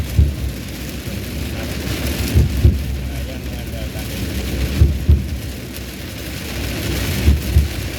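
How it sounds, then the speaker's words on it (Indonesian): Heavy night rain pours in a steady roar with low rumbles and thunder-like thumps, while someone talks over it throughout. "Ini hujan deras ya."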